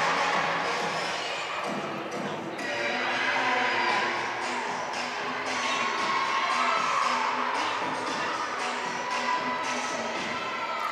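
At an NCAA gymnastics meet, teammates cheer and shout for a gymnast amid steady arena crowd noise, with scattered claps and whoops rising and falling throughout.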